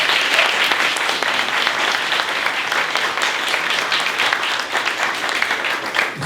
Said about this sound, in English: Put your hands together, please.